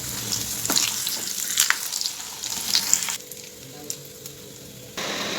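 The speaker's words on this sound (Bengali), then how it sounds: "এভাবে আমি সব পাপড়গুলো এখন বেজে নেব" Papads frying in hot oil make a steady, close sizzle with bright crackling bursts, then go quieter for a few seconds before the sizzle swells again near the end; no one speaks.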